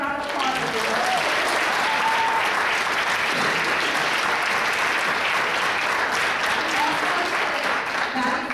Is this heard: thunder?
no